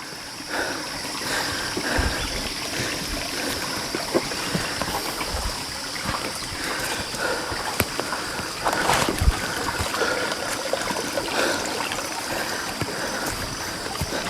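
A waterfall-fed stream rushes along a wet, slippery forest trail, a steady broadband wash of flowing water with small splashes, constant and fairly close throughout.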